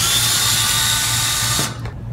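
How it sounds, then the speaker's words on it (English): Power tool driving out screws from the drain plate of an Eco Spa Eco 4 hardcover hot tub, a loud steady whir running close up, then stopping abruptly near the end, with no talk. "I've now taken the drain plate off with 2 screws, super easy."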